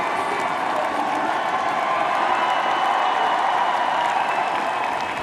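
A large stadium crowd at the Paris 2024 Paralympics athletics cheers and roars an athlete on during a race, a continuous wall of loud cheering and applause that holds steady throughout.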